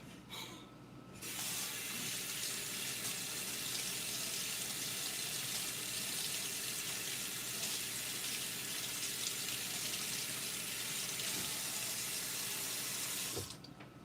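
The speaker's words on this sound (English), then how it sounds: "I'm going to wash off my hands real fast" Hands are washed under a running kitchen tap during meatloaf preparation, with a steady, close rush of water that starts abruptly, splashes continuously for about twelve seconds and then shuts off.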